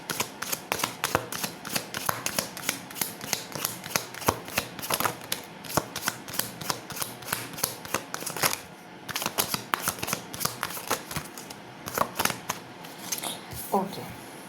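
Tarot cards shuffled over and over in quick, crisp riffling bursts, fairly close and steady throughout, with brief pauses between runs of shuffling and no talking heard.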